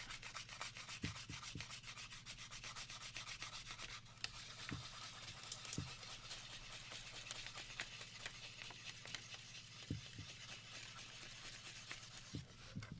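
Fine 2000-grit sandpaper rubs steadily along the edges of a game controller shell, a soft close scratchy rasping in repeated strokes with occasional light knocks.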